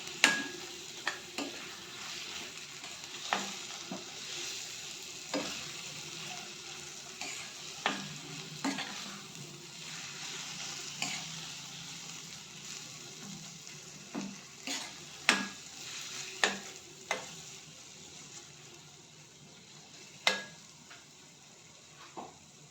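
Baingan bharta being stirred and mixed into masala in a pan, with repeated spoon scrapes and taps against the pan over a low, steady sizzle, close and fairly quiet.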